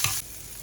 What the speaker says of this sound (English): I put the scallion first.